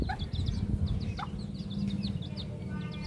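A chicken clucks nearby while thin, high chirps scatter throughout over a steady low background hum.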